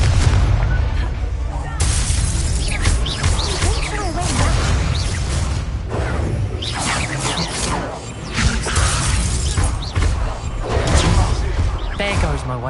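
A Confringo spell explosion in the Hogwarts Legacy game, with dense booming blasts, whooshes and crashing impacts layered under continuous loud game sound and a voice.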